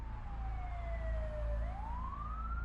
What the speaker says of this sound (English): the EMTs loaded Mark into the back of the ambulance and sped off to the hospital.